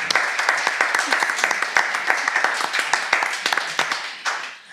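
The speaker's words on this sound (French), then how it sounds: "je voudrais qu'on applaudisse notre première candidate" Studio audience applauding a contestant on a French television comedy show, dense close clapping with crisp individual claps throughout, tapering off at the end.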